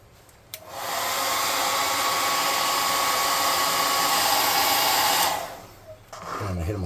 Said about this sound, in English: I'm going to air gun this off some.